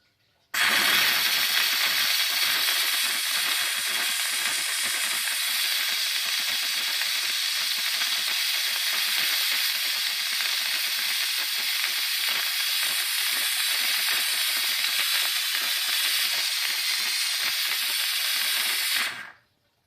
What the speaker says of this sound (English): once you hear a lot of that spitting stop, I'm going to come over here to the sticky mess